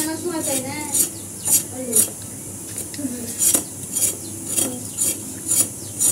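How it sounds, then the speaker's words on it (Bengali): A knife scrapes and cuts pointed gourd (potol) in a repeated rhythm of short rasping strokes, close and clear, with someone talking in between the strokes. "পটল ছিলবো না, শুধু এরকম করে কেটে নেব"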